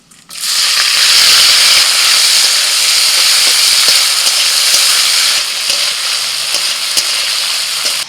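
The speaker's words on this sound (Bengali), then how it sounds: "চিংড়ি মাছ ভেজে নেব।" Prawns frying in hot oil in a pan, a loud continuous sizzle and hiss that starts abruptly and holds steady for several seconds with faint crackles.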